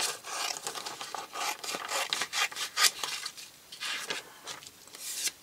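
Paper labels backed with double-sided tape being cut out with scissors, a close series of crisp snips and papery rustles in an uneven rhythm, with no talking.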